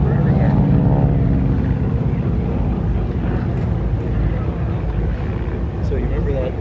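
An SNJ Texan propeller trainer drones steadily and loudly in flight at an air show, its engine roar filling the whole stretch with a constant low rumble and wind noise.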